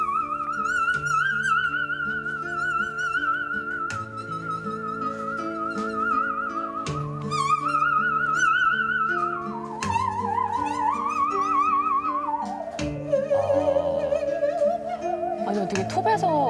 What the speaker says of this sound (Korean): 톱 연주 지금부터 잠시 들어보시죠.